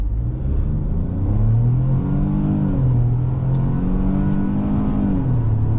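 A 2022 Ford Escape S accelerates hard on a test drive, its engine note rising steadily through the gears with a brief dip at each shift, loud and close from inside the cabin with no talk.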